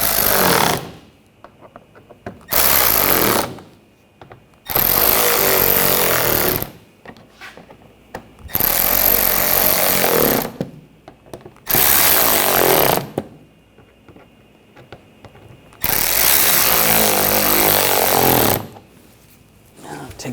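Power tool tightening bolts during a drive belt job on a 2014-2020 Nissan Rogue 2.5L L4, loud buzzing bursts of about two seconds each, repeated six times with short gaps between.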